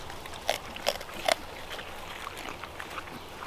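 Pigs on a farm crunch and chew hay, with a few sharper bites early on and then a steady, quieter munching close by.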